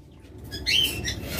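A pair of lovebirds gives a sharp, loud squawk close by, with a brief rustle of wings around it.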